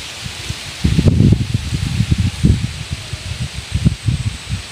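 Wind gusts through coconut palm fronds, producing irregular bursts of dry rustling and low buffeting that swell and fade in uneven waves, close to the microphone.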